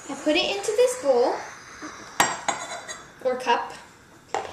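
Butter goes into a bowl in a kitchen with dishes and utensils clinking, several sharp clinks and scrapes spread through the moment alongside softer handling noises.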